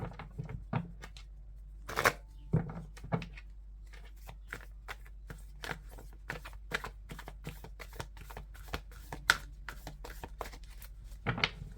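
Tarot cards are shuffled and cut by hand in a quiet room, giving a long run of soft, rapid papery taps and riffles with a few louder slaps and no talking.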